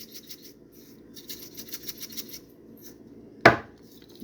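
Salt ground by a hand grinder over a pan of spaghetti, a soft dry rasping grind in short uneven strokes, ending with a single sharp clack.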